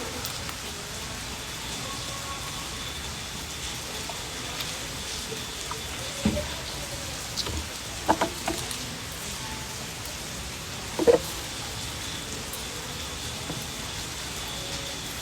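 Rain falling steadily on a golf course, a soft, even hiss with a few scattered louder drips and taps standing out now and then, fairly faint and distant.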